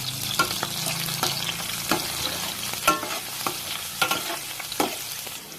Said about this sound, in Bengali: কড়াই আমি তেল দিয়েছি, এখন আমি পেঁয়াজ আর মরিচগুলো দিয়ে দেব